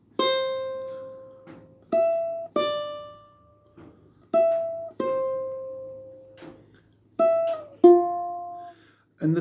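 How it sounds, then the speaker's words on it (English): Fingerpicked acoustic guitar passage, with plucked notes ringing out in short phrases and gentle pauses between them, close and clear, no voices. "The picking part is going to sound something like this."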